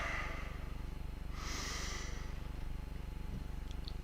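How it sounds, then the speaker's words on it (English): Deep breath drawn in, then a long breathy exhale around the middle, heard up close over a steady low hum, with no talking. "Let's take a deep breath."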